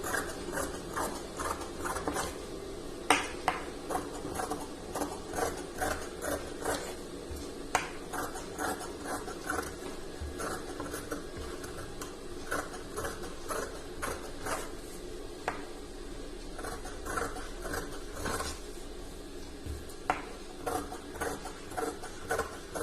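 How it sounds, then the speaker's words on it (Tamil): Scissors snip away excess cloth from a lined blouse during tailoring, a steady series of close, crisp clicking cuts in a regular rhythm, repeating for about twenty seconds with no voices. "அதுக்கப்புறமா நம்ம இந்த எக்ஸ்ட்ரா கிளாத் எல்லாம் கட் பண்ணி எடுத்துருவோம்"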